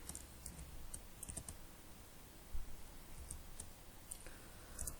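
Computer keyboard typing while code is entered in a school programming exercise on buttons and labels, a steady run of light, irregular key clicks over a quiet background with a few sharper taps.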